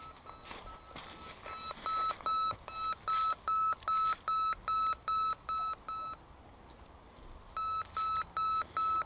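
Arex 17 metal detector beeping over buried metal, a rapid run of sharp electronic tones pulsing in a steady rhythm, pausing, then resuming, with faint outdoor background.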